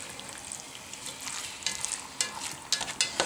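Chunks of meat for plov sizzle and crackle in a hot pot, a steady fizzing hiss with sharper spitting pops growing louder toward the end, no voices.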